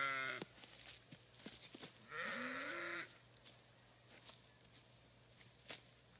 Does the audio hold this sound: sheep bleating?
yes